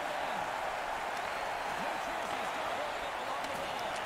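Arena crowd in an NHL hockey video game, a steady loud roar of cheering and noise filling the whole stretch, with faint commentary-like voices under it.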